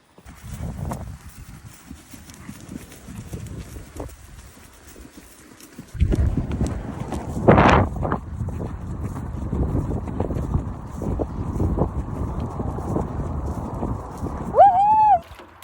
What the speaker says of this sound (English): When we get to the bottom here, we're going to have a trot.